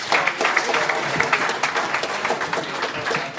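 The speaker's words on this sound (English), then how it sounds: "Everybody give a hand to Nina and her partner." A crowd applauds at a DEF CON hacker conference talk, a thick, continuous burst of many people clapping and cheering, loud and close throughout.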